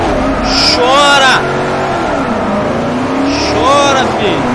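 Car engine in the racing game Forza Horizon 4 revs hard and accelerates, with tires squealing in two loud bursts, while a voice talks excitedly over the roaring motor.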